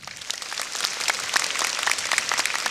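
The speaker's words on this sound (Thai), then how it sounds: "ขอเสียงปรบมือดังๆอีกครั้งดีครับ" Audience applause at a ceremony in Thailand, a dense steady patter of many hands clapping, loud and continuous throughout with no talk over it.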